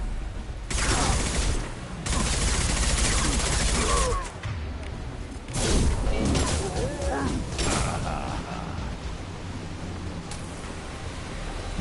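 Heavy bursts of weapon fire from a Mass Effect 2 firefight, long loud volleys close by with short gaps, mixed with mechanical clatter and combat noise, while voices speak between the shots.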